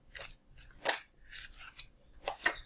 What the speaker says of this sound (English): 7 of Wands flipped over.